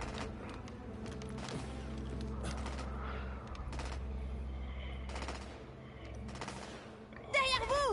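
Video game gunfire rattles in bursts over a constant low background hum, with a player talking over the shots and a rising electronic effect near the end.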